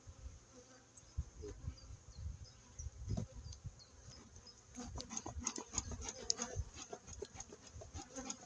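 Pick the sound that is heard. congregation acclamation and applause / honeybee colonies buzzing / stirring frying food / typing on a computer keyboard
honeybee colonies buzzing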